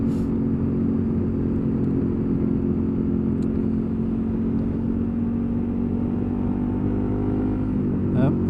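A KTM 1290 Super Adventure motorcycle rolls along at slow speed, its steady engine drone and wind rumble continuous and close throughout, with a brief rise near the end.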